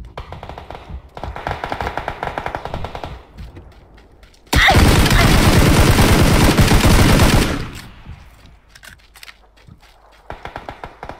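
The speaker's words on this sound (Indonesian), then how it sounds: "Dia yang itu nembak." Machine gun fire in the PUBG battle game: rapid bursts of automatic shots, first in rhythmic volleys, then a dense, loud sustained barrage lasting several seconds before shorter bursts return.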